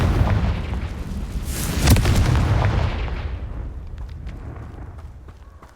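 A Confringo fire spell bursting in the Hogwarts Legacy video game: a loud, crackling explosion with a roaring blast that peaks and then slowly decays into a fading rumble, heard alone.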